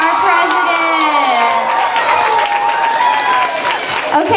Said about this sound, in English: let's give one more round of applause for our president.